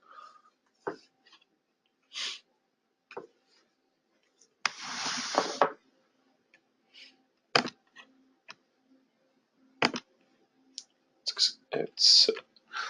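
A computer mouse clicks through a software setup, giving sharp isolated clicks spaced irregularly, with a short burst of rustling noise partway through, all close and quiet.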